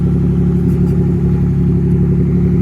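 A Nissan 300ZX engine idles steadily while warming up, a close, continuous low rumble with faint mechanical clatter and no revving.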